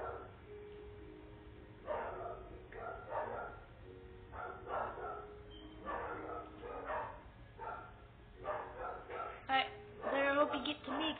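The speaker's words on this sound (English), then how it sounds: "my dogs are barking" Dogs bark in a Minecraft game, with repeated yips and barks in irregular bursts, moderately loud over a low steady hum, growing busier toward the end.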